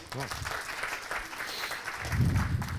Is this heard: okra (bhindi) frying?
no